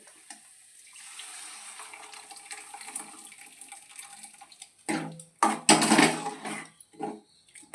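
Quiet kitchen clatter gives way to splashy bursts of water poured into a pot of cooked chana dal, loud and close, in a few uneven gushes.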